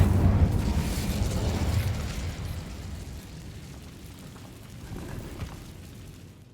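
A fire spell bursts in the video game Hogwarts Legacy, a loud low whooshing blast at the start that trails off into a rumbling, crackling decay with a small flare near the end.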